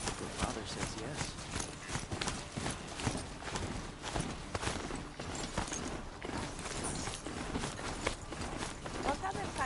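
In the Horizon Zero Dawn video game, a horse-like machine mount's hooves clip-clop in a quick, continuous rhythm, close and prominent, with a voice talking over the steady trotting.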